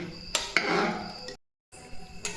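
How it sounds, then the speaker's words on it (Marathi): A metal lid goes onto a pressure cooker of rice in a home kitchen, with a few sharp clanks and scrapes of metal on metal, a short silent gap, then more light clinks. "आता मी याला झाकण लावते"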